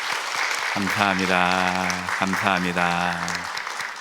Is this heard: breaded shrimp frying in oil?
no